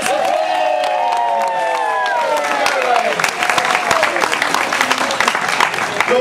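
Thunderous audience applause at a storytelling performance, loud and dense clapping with some cheering from the crowd, mixed with tonal background sounds in the first half.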